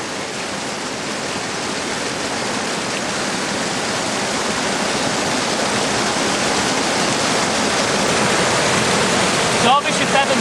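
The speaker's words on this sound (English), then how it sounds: "With the strong current issuing from this cave behind me" A strong stream current issuing from a Derbyshire cave in deep winter, a loud, steady rushing flow that fills the whole stretch and swells slightly toward the end, with a brief sharp knock near the close.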